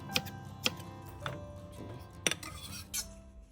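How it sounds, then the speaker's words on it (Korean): A knife cutting green onion diagonally into large pieces on a board, sharp isolated chops spaced irregularly, about five distinct crisp knocks close up against a quiet background. "어슷썰기로 큼지막하게 썰어주세요"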